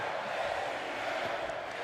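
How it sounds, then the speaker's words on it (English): Arena crowd in the wrestling video game WWE 2K25, set in Las Vegas, a dense continuous roar of chanting voices filling the whole short stretch. "the crowd here in Las Vegas chanting for HBK"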